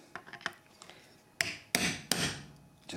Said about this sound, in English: just tap the washer down, the spanner on the back there so that the bolt doesn't turn